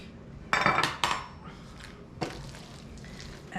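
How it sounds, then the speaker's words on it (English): A spoon scraping and clinking against a bowl while potato salad is mixed, a few sharp clattering strokes close by, with quieter stirring between them. "And we keep mixing because the salt needs to be spread well"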